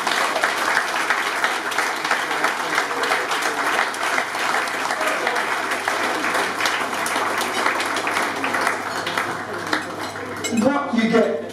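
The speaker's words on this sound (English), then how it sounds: "Please, round of applause." Audience at a testimonial event breaks into sustained applause, dense clapping throughout with clinks of dishes and cutlery, then a brief swell of crowd noise near the end.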